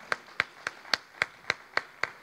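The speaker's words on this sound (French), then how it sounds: "Allez, on l'applaudit." A small audience claps for a volunteer at a Rubik's cube magic show, though only eight evenly spaced single claps are heard rather than full applause.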